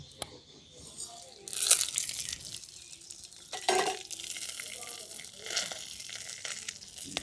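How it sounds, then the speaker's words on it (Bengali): Whole spices, including bay leaf and mace, crackle and sizzle softly in hot oil, with intermittent stirring scrapes and faint rustling, fairly quiet and close. "ফোড়নটা একটু ভাজা ভাজা করে নিচ্ছি"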